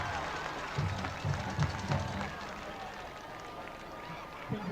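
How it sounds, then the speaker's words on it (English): Crowd applause for the Stony Point High School homecoming court at a high school football game: steady, broad clapping and cheering from a large outdoor crowd, carrying on under an amplified voice. "Give one more big round of applause for the Stony Point High School homecoming court"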